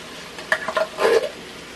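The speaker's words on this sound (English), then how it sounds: "I'm stirring the beans in." Beans are stirred into chili in a pot, giving a few short scraping and sloshing strokes, close and fairly quiet, with a light sizzle underneath.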